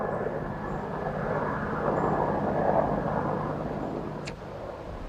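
A UH-1 Huey helicopter drones steadily at moderate loudness, a broad even engine and rotor rumble holding through the whole stretch with a sharp click at the end.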